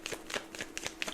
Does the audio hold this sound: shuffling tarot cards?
yes